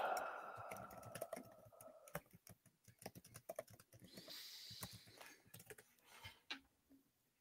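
Computer keyboard being typed on during a podcast chat, a fast irregular patter of sharp clicks in bursts over about seven seconds, close to the mic, with faint talk in the background.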